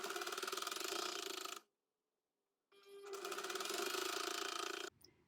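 A sewing machine stitches a quarter-inch seam joining two pieces of a Martha Washington quilt block, running in two steady, close bursts separated by about a second of silence, with no talking.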